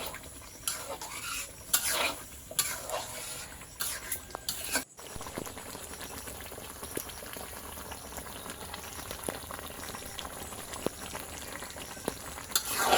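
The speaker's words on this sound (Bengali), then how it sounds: "শেষ মুহূর্তে নেড়ে চেড়ে নিচ্ছি" Mango pickle is stirred in a pan: irregular scraping and clinks of a spoon against metal over a soft simmering bubble, close up with no talking.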